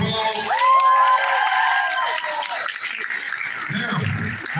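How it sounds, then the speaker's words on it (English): An indoor audience at a panel event cheers and whoops loudly, with some applause, then the noise gradually fades as a voice speaks again. "Give her a round of applause."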